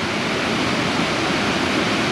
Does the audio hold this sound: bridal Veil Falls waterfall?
yes